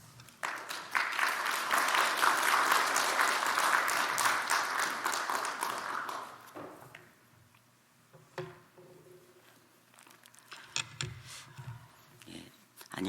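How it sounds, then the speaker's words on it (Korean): A church congregation at a morning service applauds to welcome a missionary speaker, steady dense clapping for about six seconds that then stops, followed by quiet room sounds and a few soft voices. "선교사님 나오실 때 우리 박수로 환영해 주시기 바랍니다"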